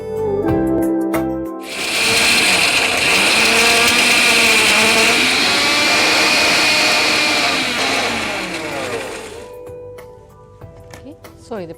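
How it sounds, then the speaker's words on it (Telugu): Kitchen mixer grinder blending capsicum masala with tamarind and salt: a loud, steady whirring roar that starts abruptly and runs about eight seconds, then winds down, with brief clatter before and after. "మిక్సీ పట్టేసుకుందాం."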